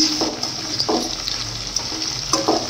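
Peanuts frying in a pan for Vidarbha-style dal bhaji with spinach, a steady close sizzle broken by a few brief scraping stirs, with no voices.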